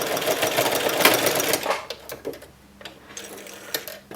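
A sewing machine stitches a fabric face mask, giving a fast, loud mechanical whir that slows into a few sparse ticks and clicks as it stops.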